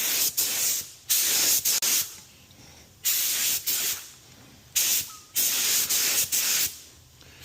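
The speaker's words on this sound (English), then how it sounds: "This is just a cheap gun, but obviously you can tell it sprays really good." Inexpensive paint spray gun laying primer on a Big Block Ford 460 tunnel ram project: repeated bursts of close, loud hissing spray, each lasting about a second, separated by short pauses.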